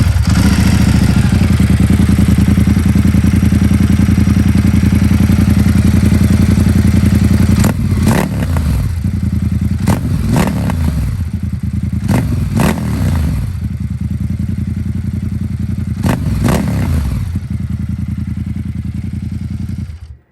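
A Ducati XDiavel motorcycle with a Termignoni exhaust idles loudly and steadily close by, with a deep rumble. Sharp revving blips and clattery bursts break in repeatedly through the second half before the engine cuts off at the end.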